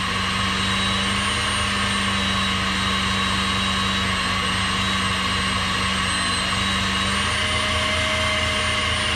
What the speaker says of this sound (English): I'm going to go up to 10 here. And I'm just going to barely kind of touch it to listen to the motor.